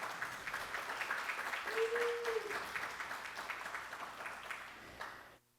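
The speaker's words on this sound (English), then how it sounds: "Can we just clap our hands for her this morning?" A church congregation at First Missionary Baptist Church claps together in a steady, moderate round of applause that carries on for several seconds. A brief tone sounds in the middle, and the clapping cuts off abruptly at the end.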